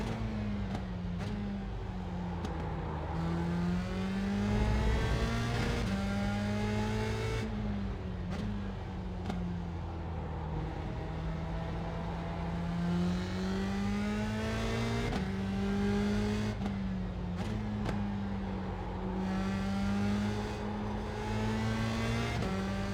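A USF 2000 open-wheel race car engine at the Hungaroring in the iRacing simulator, a loud steady onboard drone whose pitch rises and falls through upshifts and braking for corners, with occasional short clicks.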